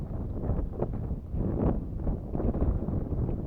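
Strong wind buffets the microphone at a lakeside float-fishing spot in Perm Krai, a low, rumbling gusty roar rising and falling in uneven surges with no voices.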